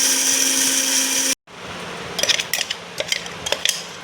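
Mixer grinder whirring loudly with a steady motor whine while grinding fenugreek into fine powder, then cutting off abruptly, followed by dry scraping and tapping noises close by.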